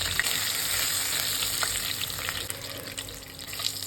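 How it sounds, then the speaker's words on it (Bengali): Fish heads fry in mustard oil in a wok, giving a steady, close sizzle with intermittent spits and pops and a few soft stirring scrapes, no talking. "প্রথমে কড়াইয়ে সর্ষের তেল দেব। দেখুন, মাছের মাথাগুলো ভেজে দেব।"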